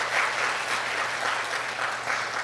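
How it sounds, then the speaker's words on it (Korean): Steady applause from a crowd at a school graduation ceremony, dense and even throughout, with no talking over it. "다시 한번 큰 박수 부탁드립니다."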